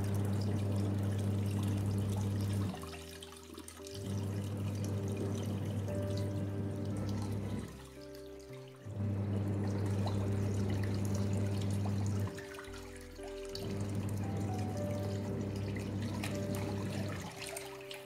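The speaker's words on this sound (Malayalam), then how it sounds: "ഇത് ഫുള്ളി ഓട്ടോമാറ്റിക് ടോപ്പ് ലോഡായിട്ടുള്ള വാഷിംഗ് മെഷീനിലും ഇട്ട് നമുക്ക് കഴുകിയെടുക്കാം." A blanket washes in a fully automatic top-load washing machine: water churns and sloshes in repeated cycles of several seconds, with brief quieter pauses between them, close and steady.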